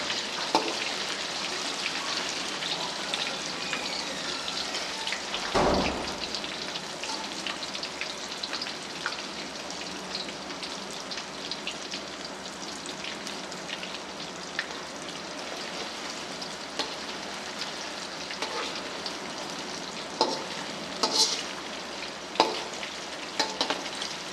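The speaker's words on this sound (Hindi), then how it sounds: "दोनों साइडों से अच्छे तरीके से फ्राई कर लेना है" Chatkara boti meat pieces frying in a pan give a steady, crackling sizzle throughout, with occasional louder pops and a brief clatter.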